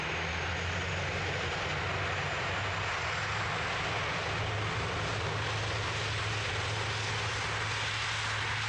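An airliner taking off at Manchester Airport: a continuous broadband engine roar, steady and heavy throughout, with a low rumble underneath and no voices.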